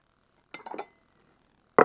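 Kitchen bowls and dishes clink and clatter during cooking: a quick cluster of knocks and rattles, a short pause, then one sharper bump as another bowl is set down, close and fairly quiet.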